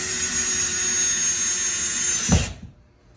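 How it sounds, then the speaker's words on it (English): Cordless power drill driving screws into plastic wall anchors while mounting open kitchen shelving, a steady close whine lasting over two seconds that ends with a brief thump as a screw seats, then quiet. "going back to these screws, these are just with the plastic anchors. Just drive these in."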